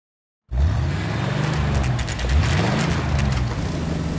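A red Ford's car engine roars during a chase in the video game L.A. Noire, its loud, steady drone rising and falling with revving gear shifts and continuing to the end.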